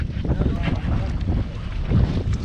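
Strong northeast wind buffets a fishing boat out tautog fishing off New Jersey, a steady loud roar of wind noise on the microphone with water slapping beneath, continuous throughout.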